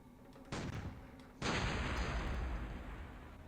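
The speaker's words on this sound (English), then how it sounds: "I think you have to actually shoot this one." Gunshots in the remastered shooter Outlaws, set in a sawmill: two loud blasts, the first at half a second and a bigger one near 1.4 seconds, each followed by a long, echoing decay.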